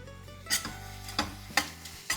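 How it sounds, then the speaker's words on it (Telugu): Ridge gourd being stir-fried in a pan, with a soft, continuous sizzle broken by four clattering strokes of a spatula stirring at a steady pace, close up and without speech. "ఇది కొంచెం ఫ్రై అవ్వాలి"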